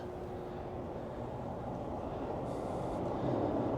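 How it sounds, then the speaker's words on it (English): Rumbling train noise on Toronto subway Line 2 at an open-air station beside a bridge over the Humber River, a steady broad roar that swells slightly near the end, with no talking. "this is one of the more interesting subway stations, I think, in the whole Toronto subway system"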